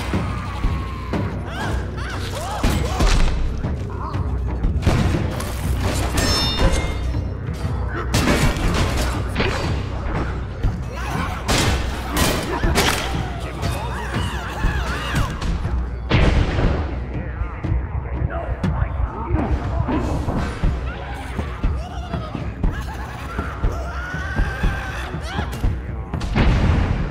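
Explosions in the VR combat game GORN, repeated booming blasts and crashes in bursts over a noisy background of combat effects across the whole stretch.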